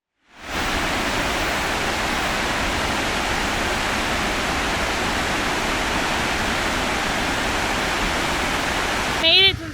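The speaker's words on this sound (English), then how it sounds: "We're at the top of the waterfall." A powerful waterfall in Iceland roars as a loud, constant broadband rush that starts abruptly and holds steady, heard from close by at the top of the falls, with a brief higher sound at the very end.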